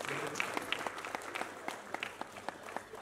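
Audience applause greets a director called to the stage at a Tamil movie trailer launch, a steady patter of clapping from a modest crowd with sharp individual claps standing out.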